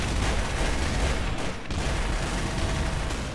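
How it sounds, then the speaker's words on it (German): Gunfire in the multiplayer game Trouble in Terrorist Town, on an Airbus map: a loud, dense, continuous barrage of shots and blasts that fills the whole stretch with only a brief dip midway, with no talking. "Das ist schon wieder geschossen!"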